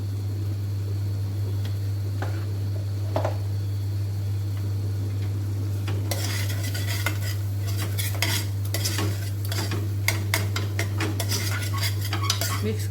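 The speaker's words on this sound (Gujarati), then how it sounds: "મિક્સ કરી લઈશું બરાબર બધું." A spoon stirring masala onion-potato curry in a pan: faint scattered clinks at first, then busy scraping and clattering against the metal from midway on, over a steady low hum and soft sizzle.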